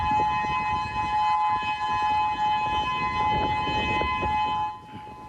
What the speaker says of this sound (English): We have some video of the moment the sirens came down on Maui earlier this afternoon.